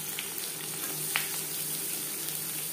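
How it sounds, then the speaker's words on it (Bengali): Chopped onions frying in hot mustard oil with bay leaf for a mutton liver and potato curry, giving a steady close sizzle and hiss with a few faint crackles, no talk. "দিয়ে দিলাম পেঁয়াজ কুচি"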